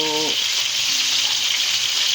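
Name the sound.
frying ingredients for soup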